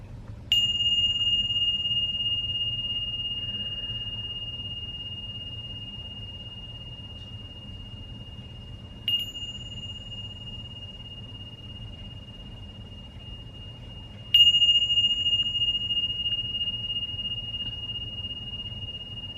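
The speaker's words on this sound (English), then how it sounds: "I will be ringing these bells to signify the start and end of our session" Three meditation bell strikes spaced several seconds apart, each a clear sustained ring that slowly fades over a soft low hum, with no talking.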